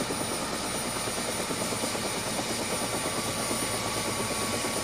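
Helicopter flying steadily overhead, ferrying emeralds from the Muzo mine in Colombia to Bogotá; a loud, continuous rotor thrum with dense rhythmic chopping that holds throughout, with no talk.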